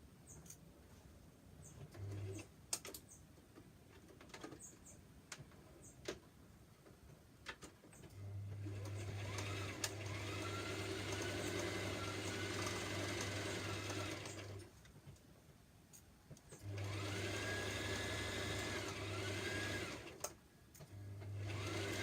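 A sewing machine stitches a dart on a homemade top in two long steady runs, with quieter pauses and small clicks of handling between them.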